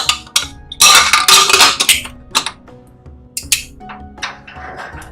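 Close metallic clanks and clicks as a pressure cooker lid is fitted and shut while making palada payasam, a few sharp knocks then quieter rattles.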